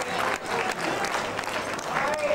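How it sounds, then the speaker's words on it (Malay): An audience at an evening Malay gala event applauds, with continuous, fairly loud clapping from a crowd and faint voices underneath. "Berikan tepukan"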